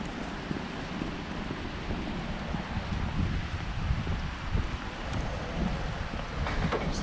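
Wind rises in Magaluf, buffeting the microphone with a steady, low, gusty rumble that swells and dips slightly throughout without any voices.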